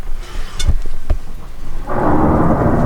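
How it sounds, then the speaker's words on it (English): Thunder rolls through a canyon during a lightning storm, with sharp cracks early on followed by a loud, sustained rumbling roar that echoes back and forth, rain noise mixed in. "So it's lightning everywhere and there's thunder, and since it's a canyon, the sound is bouncing back and forth."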